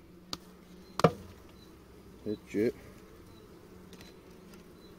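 Honey bees in a Kenyan top-bar hive, a faint low buzz with a few brief louder passes close by, while a person speaks quietly.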